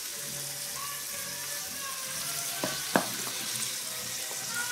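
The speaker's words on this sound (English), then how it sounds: "Give that a little stir." Lentils and vegetables sizzle in a pan with a steady frying hiss, and a spoon scrapes and knocks against the pan twice near the middle. No one speaks.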